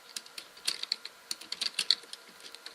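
A file name is typed on a computer keyboard in short, uneven bursts of light, close key clicks with brief pauses between them, no voices heard.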